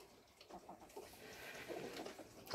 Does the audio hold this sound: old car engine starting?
no